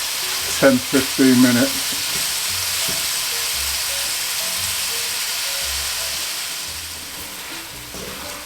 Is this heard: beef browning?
yes